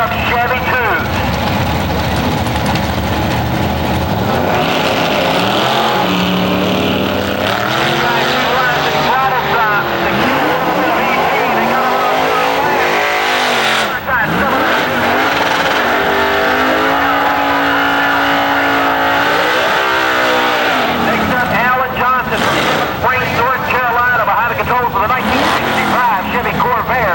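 A pair of Chevy II drag race cars scream down a drag strip at an early-2000s IHRA event, loud engines rising and falling through gear changes, with a track announcer talking over the roar.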